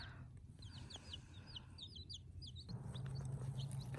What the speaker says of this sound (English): So our chicks are enjoying their first time out.